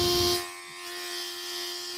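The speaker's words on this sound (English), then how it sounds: "It sounds exactly like a facial shaver" A small compressor gift buzzes with a steady, thin electric whine like a facial shaver, preceded by a brief hiss at the start, close and fairly quiet.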